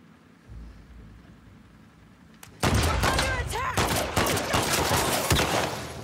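Quiet ambience gives way to a sudden loud burst of repeated gunshots in The Last of Us Part II, dense rapid firing close by, with rain-like noise behind.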